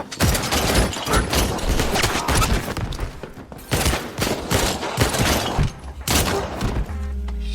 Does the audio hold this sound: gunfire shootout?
yes